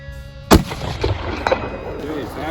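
One sharp, loud bolt-action rifle shot cracks early on, followed by fainter echoing reports and handling noises, with a voice in the background.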